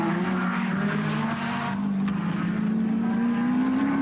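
A Holden Commodore touring car in the 1989 ATCC race at Symmons Plains drones past at speed, its engine note steady and slowly rising in pitch, loud and continuous, with no commentary heard.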